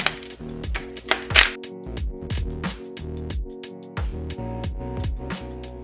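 A 16 mm wrench clinks against metal while the AC compressor is unbolted from a VW MK2 during a 1.8T engine swap. A few sharp, close metallic taps and rattles stand out over steady background music.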